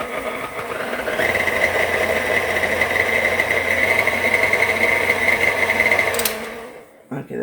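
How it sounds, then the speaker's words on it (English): A steady, loud motor whir of an electric mixer blending dry ingredients for a pecan chocolate chip bundt cake, running continuously with a constant hum before cutting off near the end. "Let me just blend that in."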